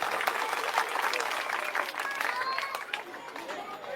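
Loud, continuous applause from a large crowd at an Aam Aadmi Party election rally in Krishna Nagar, Delhi, sustained clapping filling the whole stretch with a few louder bursts and no clear speech.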